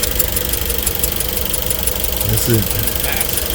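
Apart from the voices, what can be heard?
overheated damaged engine running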